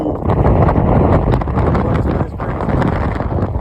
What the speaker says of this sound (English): The wind is like 15 miles an hour sustained. It's gusting at 28 or something like that.